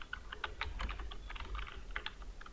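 Rapid, irregular keystrokes on a computer keyboard while new text is entered into a PDF text box in Adobe Acrobat Pro DC, close and steady with no talking.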